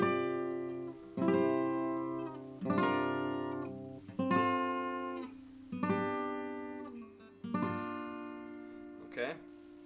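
Acoustic guitar strumming the chords of a song, five separate chords each struck once and left to ring out and decay, clear and close.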